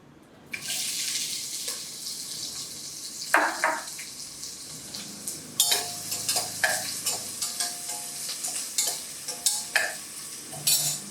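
Onions sizzle and crackle in a hot pan while a utensil scrapes and stirs them in repeated strokes, with a brief rush of tap water early on.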